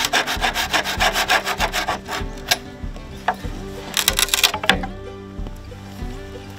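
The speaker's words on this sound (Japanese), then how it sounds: "まずは竹を切るところからですかね。" Bamboo being cut with a hand saw, rhythmic back-and-forth rasping strokes up close, a fast even run of strokes, a brief pause, then a final flurry as the cut finishes.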